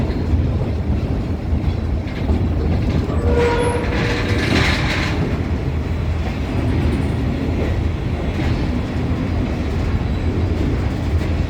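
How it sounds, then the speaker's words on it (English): A train rolls along with steady rumbling and faint clickety-clack, a brief squeal of wheels partway through, loud and constant with no voices. "the train is slowing down, and that is because we have reached our destination for the day here"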